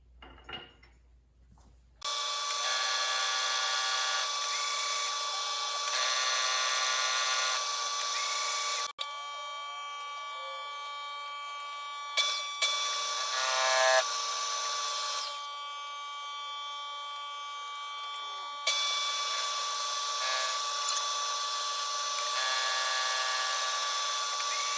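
A Bridgeport milling machine cuts a slot in metal, a loud steady whine that starts abruptly, pauses briefly, and resumes in long even stretches with small shifts in pitch.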